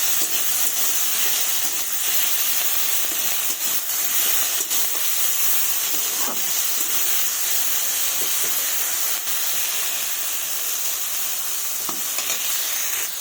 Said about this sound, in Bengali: এবার ভালোভাবে এইভাবে নেড়ে চেড়ে একটু ভাজবো।